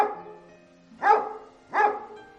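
A dog barks twice in quick succession, each bark short and clear over a faint musical background, with about half a second between them.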